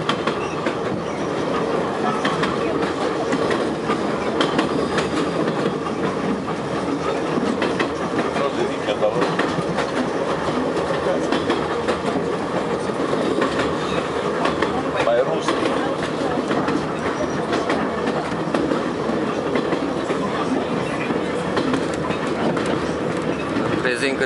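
Kiev metro train running between Lisova and Arsenal'na stations, a steady loud rumble with rhythmic clickety-clack of the wheels throughout, under faint background talk.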